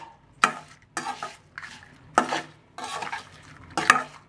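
A spoon stirs curd poha in a frying pan, making several distinct scraping and clattering strokes against the metal at an uneven pace, close up, with no talking.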